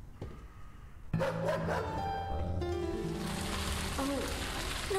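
A dog barking in an alleyway in the video game Lorelai, a few sharp barks over rain and background music, with someone speaking alongside.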